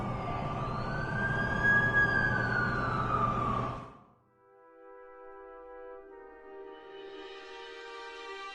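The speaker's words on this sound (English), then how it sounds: "That's the ambulance I called." Wailing siren from a video game ambulance in Spider-Man 2, loud and sweeping for about four seconds, then cut off and replaced by steady tonal in-game music.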